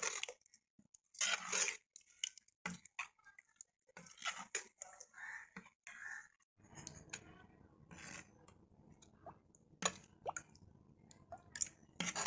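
Jowar flour dosa batter thinned with added water is stirred in a bowl by hand, giving soft, wet squishing and dripping sounds in irregular bursts, close and fairly quiet, with faint background noise.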